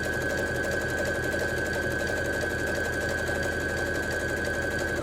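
A Janome sewing machine stitches a fabric-wrapped rope bowl, running continuously with a rapid, even mechanical rattle and a steady whine at close range.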